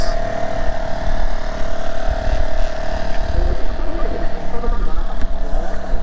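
Motorcycles running laps on a track day course, a steady engine drone with revving rising and falling at moderate distance, little talk over it.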